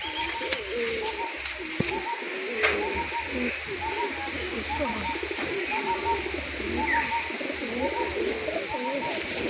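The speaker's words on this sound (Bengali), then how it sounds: "এই দেখুন একটা নাপ্তা পায়রা।" A naptha pigeon coos in repeated low, rolling phrases amid other pigeons in a loft, with a steady background hiss and occasional faint chirps.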